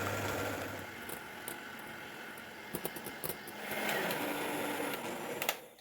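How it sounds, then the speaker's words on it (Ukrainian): Electric hand mixer whipping egg whites with a pinch of salt toward stiff peaks for a poppy seed cake, a steady low motor whir running throughout with a few brief clicks and a slight rise in intensity near the end. "І тепер вже збиваємо до стійких піків. І збільшуємо швидкість."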